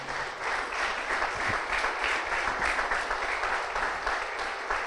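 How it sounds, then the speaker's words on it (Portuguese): Church congregation applauding loudly and continuously, a dense steady wash of many hands clapping that fills the room for several seconds. "E aplaudam bem forte o nome do Senhor"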